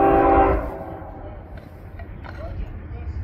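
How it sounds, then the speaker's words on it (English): A train horn gives one loud, short blast as a train passes in Winslow, then cuts off sharply into a lower rumble of wheels and engine noise, with faint voices talking underneath. "They legally have to horn."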